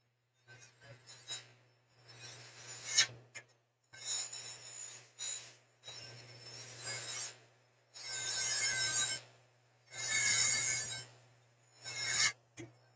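A lathe with a bearing hanging up gives a rough, scraping grind in repeated bursts, rising and falling over a steady low motor hum, close and moderately loud.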